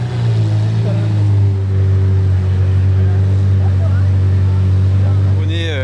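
A Lamborghini Aventador SV Roadster or LP640 Roadster idles on a street in Monaco. Its low, heavy drone holds steady and loud throughout, with a rising rev near the end.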